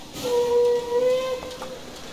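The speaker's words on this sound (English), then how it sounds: "the J key will play the short whistle" A single steady steam locomotive whistle blast from Train Simulator Classic, bright and clear, holding for about a second before cutting off, with a soft hiss of steam around it.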